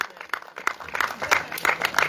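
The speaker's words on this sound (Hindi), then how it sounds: "एक बार जोरदार तालियां हो जाए" Applause at a community committee event, a scattered group of people clapping, with individual claps audible as uneven bursts that build and thicken over a couple of seconds.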